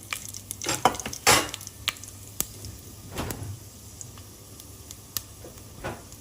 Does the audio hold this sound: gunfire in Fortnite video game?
no